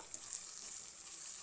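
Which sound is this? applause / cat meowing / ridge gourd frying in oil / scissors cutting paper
ridge gourd frying in oil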